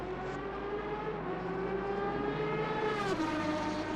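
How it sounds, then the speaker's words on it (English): An Aston Martin V12 engine roars in a racing video game, a sustained loud whine climbing through the gears, then dipping sharply as it shifts near the end, with no one talking. "just listen to that roaring V12 engine"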